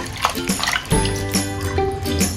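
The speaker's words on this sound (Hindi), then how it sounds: "ये मैंने दो बार पानी में से इसको धो लिया है" Spinach leaves are rinsed by hand in a bowl of water in a home kitchen, with soft sloshing, trickling and light splashing close by, plus a few clinks against the container.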